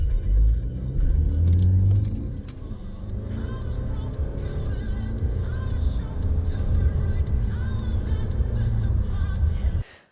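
A 2020 Mercedes C-Class C220d with a 2-liter turbocharged diesel runs as a low, steady rumbling drone, with a stronger surge near the start before settling into a sustained hum that cuts off abruptly at the end.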